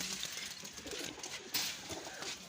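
High flyer pigeons cooing in a loft setup, soft low murmuring coos under faint background noise, fairly quiet and continuous.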